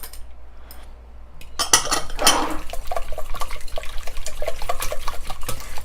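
Eggs and vegetable oil being whisked in a bowl for strawberry fritter batter, a steady rapid clatter of the whisk against the bowl, close and continuous after a brief clink at the start.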